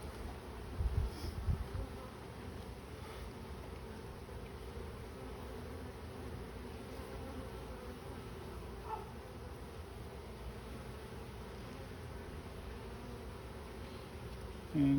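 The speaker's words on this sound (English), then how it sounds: "And you see a few drones, lots of worker bees." Honey bees, both worker bees and a few drones, buzz in an opened beehive as a frame is lifted out, giving a steady, dense hum that stays close and unbroken with no talk over it.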